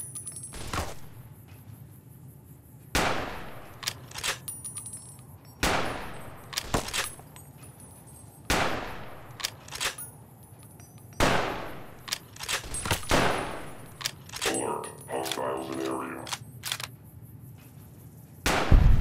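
Gunfire in Fallout: New Vegas rings out as a string of sharp, loud shots, some single and some in quick clusters, separated by brief pauses and with no talking.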